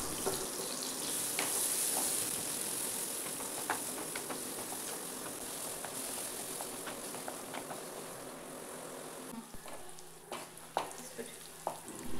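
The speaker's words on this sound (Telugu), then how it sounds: "ఇప్పుడు అదే ప్యాన్లో కొంచెం ఆయిల్ యాడ్ చేసుకొని 1 ఆనియన్ యాడ్ చేసుకొని ఫ్రై చేసుకోవాలా." Onion frying in oil in a pan for a vegetable curry, with a steady close sizzle and occasional stirring scrapes and clinks.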